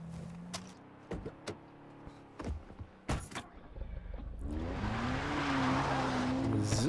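A car drives in Far Cry 3: a door clunks and thumps sound at first, then the engine revs up and builds into a steady loud drone with rising pitch as the car gets moving.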